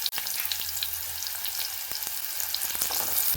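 A small onion frying in coconut oil gives a steady, close sizzle, with a few soft clicks of stirring now and then and no voices.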